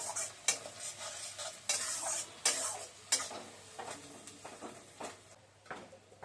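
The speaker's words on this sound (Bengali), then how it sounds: "দেখি পেঁয়াজটা আবার নেড়ে" Onions frying in a pan are stirred with a spatula: a soft, quiet sizzle runs underneath while sharp scraping strokes land every second or so, each followed by a brief hiss.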